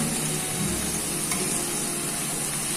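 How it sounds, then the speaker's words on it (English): Banana pieces fry in hot oil with a dense, loud, unbroken hiss and crackle, close up and steady throughout with no pauses or other sounds. "We will fry it till it becomes little crispy."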